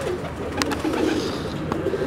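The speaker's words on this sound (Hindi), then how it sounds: "उसी का कबूतर दिखाएं आपको, डबल वाला कबूतर।" Pigeons, including a double-crested breed kept by a fancier, give soft, low cooing calls close by. Scattered wing flutters and clicks sound over a muffled, busy background.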